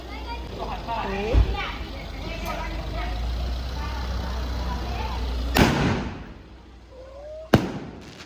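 Loud sharp bangs of firecrackers burst twice, each a sudden crack ringing out, amid a noisy outdoor crowd with children's voices and chatter.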